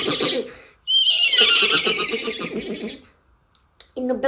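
A mimicry artist performing comedy imitates a horse neighing: a loud, shrill whinny that rises and then trails into a throaty shudder, followed by a short voiced burst near the end.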